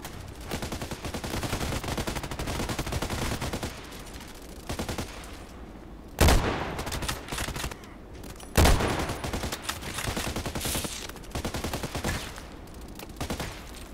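Rapid gunfire from a shooter video game, dense overlapping bursts and volleys running nearly throughout, loud and close, with a couple of sharp heavier blasts standing out.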